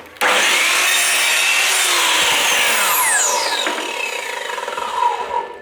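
A miter saw set to 45 degrees cuts a piece of wood for a feature wall, rising loudly to a sustained close whine as the blade bites through, then winding down.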